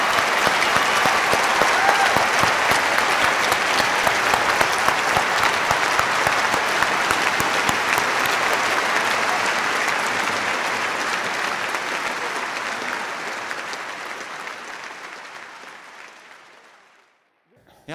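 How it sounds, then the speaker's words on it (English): Sustained audience applause at a university lecture featuring Richard Dawkins and Lawrence Krauss, loud dense clapping that holds steady and then gradually fades out near the end. "Richard, come on back out for applause."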